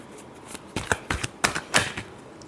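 Tarot cards are shuffled in quick riffling bursts, a close, crisp run of papery flutters and taps lasting a couple of seconds, with no voice over it.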